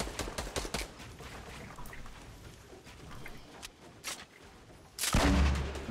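Fortnite gunfire comes in a string of sharp shots, a quick burst first and then sparser single cracks, before one loud, close blast near the end.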